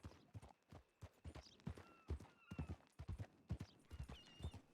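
Horse hooves clip-clop in a steady walking rhythm in the video game Red Dead Redemption 2 during roleplay, close and clear, with occasional faint whinnies and other game sounds around it.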